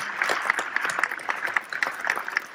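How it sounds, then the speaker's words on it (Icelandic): A small audience at a festive premiere of an Icelandic film applauds, with distinct individual claps in a fairly sparse, uneven patter at moderate distance. "ég held að klappa fyrir Laufey."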